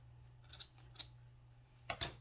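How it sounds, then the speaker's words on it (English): A few quiet, crisp snips of scissors cut in short bursts against a faint steady hum, with the sharpest snip at the end. "And then just take my scissors"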